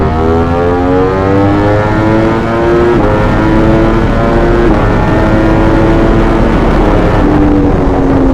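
A naked motorcycle's engine roars loudly and close as it accelerates, its droning pitch climbing and dropping back as it shifts up through the gears, continuous and alone.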